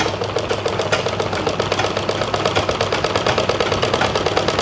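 A pedal-operated sewing machine stitches smoothly after its shuttle has been repaired, giving a close, steady, rapid mechanical clatter with an even rhythmic pulse throughout and no talking.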